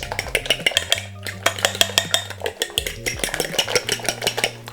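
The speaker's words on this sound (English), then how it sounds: "And then you just want to whisk the eggs in shortly." A whisk beats eggs and mashed banana in a bowl, producing fast, rhythmic clattering strokes of metal against the bowl that continue close and clear, with no talking.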